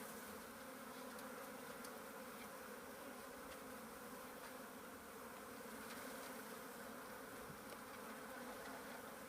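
Honey bees from a package being installed in a hive give a steady, dense buzzing drone, faint and even throughout, with no talk.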